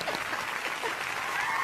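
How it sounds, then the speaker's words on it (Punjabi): Applause for a dance, a steady patter of clapping from a small group, fairly close and continuous throughout. "ਅਗਰ ਡਾਂਸ ਅੱਛਾ ਲਗਾ ਤਾਂ ਤਾਲੀਆਂ ਦੇ ਵਜਾ"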